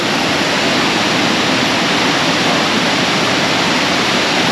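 Heavy river water rushes steadily below Jangkar Waterfall, a dense, continuous roar filling the whole clip with no voices over it.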